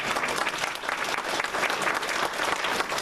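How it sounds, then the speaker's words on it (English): A dense, steady wash of applause from a gathered audience at an iron works and foundry, loud and continuous throughout with no individual claps standing out and no speech over it. "give her a round of applause."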